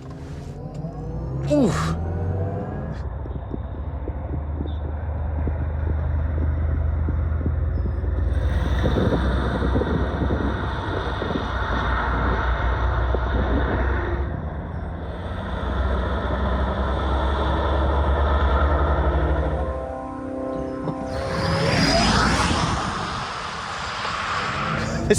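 A Chevrolet Silverado EV RST electric pickup in its lowest suspension setting launches from a brake-torqued standstill down a drag strip, giving a steady rising whir and rumble that holds for many seconds before fading, with a brief voice.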